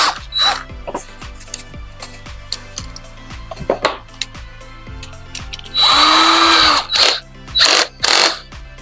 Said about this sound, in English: that's when we get our rotary bit onto the drill